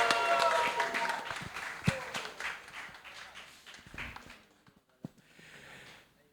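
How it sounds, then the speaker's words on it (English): A faint, distant ripple of audience clapping at a music-industry panel event swells briefly, then dies away into near quiet with a few scattered sounds. "let's give a big round of applause for the one, the only,"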